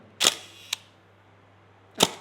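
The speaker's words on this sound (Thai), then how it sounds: "อันนี้คือเสียงชัตเตอร์นะเราลองฟังดูนะ นี่คือเสียงชัตเตอร์" A Hasselblad camera's leaf shutter fires, giving sharp mechanical clacks: a loud snap, a fainter click a half-second later, then another loud snap, close and alone against quiet room hum.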